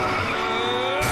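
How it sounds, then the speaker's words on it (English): A cartoon car skidding in an animated comedy scene, with a continuous loud tire screech and engine whine filling the moment, and a sharp shift near the end as the crash begins. "he deliberately gets into a fracking car crash just so he can score himself another prescription."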